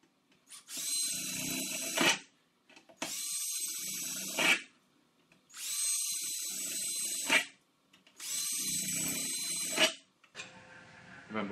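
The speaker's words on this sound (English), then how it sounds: "Drill those sections." A power drill bores through steel trunking in four loud, separate bursts of high whining grind, each ending abruptly, with short pauses between them.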